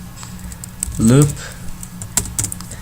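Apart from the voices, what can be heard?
typing code on a computer keyboard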